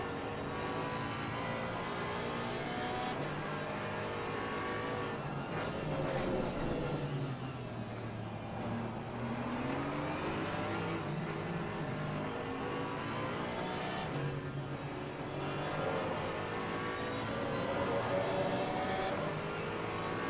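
GT4 race cars lapping Misano in Assetto Corsa Competizione, engines droning loudly and continuously, pitch sweeping down under braking and climbing again on acceleration, with several overlapping engine tones throughout.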